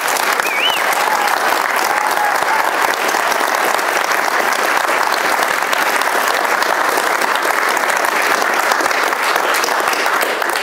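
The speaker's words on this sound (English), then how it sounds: "Can I get a round of applause?" An audience at an evening talk featuring Dr. Patrick Moore gives a steady, loud round of applause that fills the whole stretch, dense and sustained with no break, a faint whistle rising briefly near the start.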